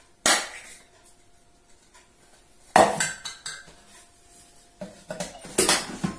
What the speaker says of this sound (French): Et là, on va s'aider de la cuillère pour mélanger en même temps.